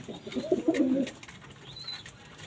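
A Pakistani pigeon gives a short burst of deep, throaty cooing close by, then falls quiet, leaving faint room noise and a thin high whistle.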